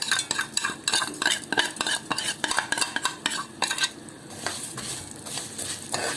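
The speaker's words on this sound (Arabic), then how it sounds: "نحط بقى الشعريه بتاعتنا بالمنظر ده كده، ونبدا نحمر الشعريه بتاعتنا لحد ما تدي لون الكهرماني الجميل ده كده" Vermicelli toasts in ghee and oil in a pan for basmati rice, with a rapid run of close metallic scraping and clinking stirs over a soft sizzle, then a brief calmer frying stretch, with no voices.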